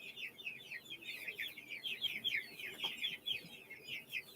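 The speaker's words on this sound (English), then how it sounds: "Y'all hear the meat birds in the background." Meat chickens cluck and chatter continuously at a low level in the background, a busy flock of overlapping calls.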